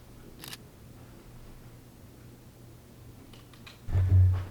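A Fuji XT4 mirrorless camera fires its shutter indoors during a real estate shoot, giving a couple of faint, brief clicks over a low steady hum, then a louder low thump near the end.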